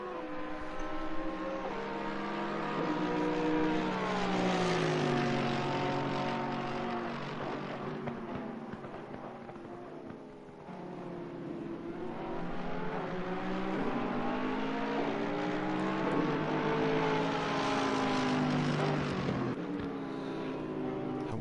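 Race cars roar around a circuit in a Mercedes-versus-Porsche chase, engines rising and falling through gear shifts, the pitch sweeping up and down as two machines pass close by again and again.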